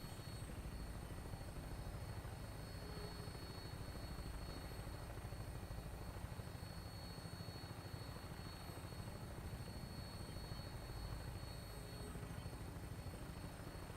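Aircraft engine drone from the video game Wasteland Warrior as the plane flies on final approach to an airport, a steady, loud, rotor-like roar that holds unbroken for the whole stretch with no voices.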